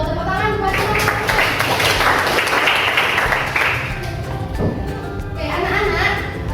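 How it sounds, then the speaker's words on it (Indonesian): Children clapping in a classroom, a burst of mixed hand claps with young voices talking and calling out over it, fading partway before a second brief swell of clapping and chatter. "Tepuk tangan buat teman-teman."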